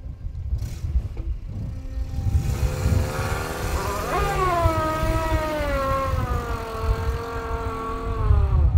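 An old car's engine revs and strains while stuck in desert sand dunes in Mauritania, rising in a long wavering whine over rumbling low noise, loud and sustained after a brief quieter start.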